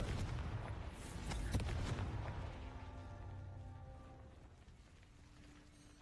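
Confringo spell in Hogwarts Legacy fires off a fiery blast, a booming burst with sharp cracks peaking early, then a long rumbling decay tailing off into quiet, no speech over it.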